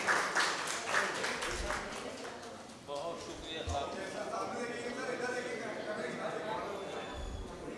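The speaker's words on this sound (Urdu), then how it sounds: "تالیاں تالیاں" An audience at a book launch applauds with scattered hand clapping that tapers and thins over the clip, heard from within the room amid crowd murmur.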